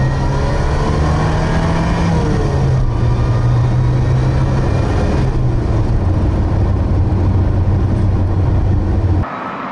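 A 1980 Saab 99 Turbo engine pulls hard under acceleration, a loud, steady drone that climbs and shifts pitch in stages before cutting off abruptly near the end.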